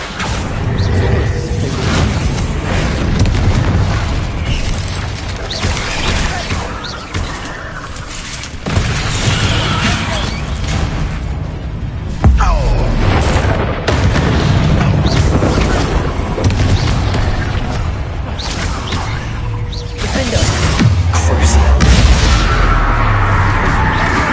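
Repeated Confringo spell blasts in the Hogwarts Legacy video game: dense, loud booms and crashing impacts with whooshes, one burst after another through a continuous chaotic battle mix.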